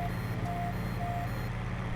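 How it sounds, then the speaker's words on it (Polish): Intermittent reversing beeps from a Fendt 930 Vario TMS tractor in Farming Simulator 15, two clear tones repeating steadily over a constant low engine drone. "Mamy pikanie"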